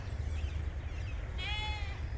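A single sheep bleats once, faintly and at a distance, on a hillside where shepherds watch their flock, over a steady low rumble of background noise.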